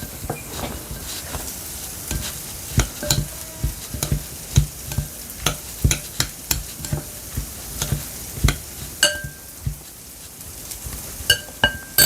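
Mashed potato is stirred into a pan of rosé sauce and ketchup, giving a soft continuous scraping sizzle with frequent sharp utensil clicks and taps against the pan, up close and steady throughout.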